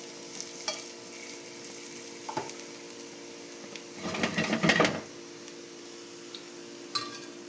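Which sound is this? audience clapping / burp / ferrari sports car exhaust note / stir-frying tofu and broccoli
stir-frying tofu and broccoli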